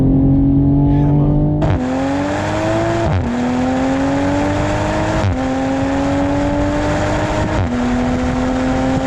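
A 2020 Toyota Supra accelerating hard on back roads, loud engine climbing through the gears with repeated upshifts, each marked by a brief drop in pitch before it rises again, heard close and continuous.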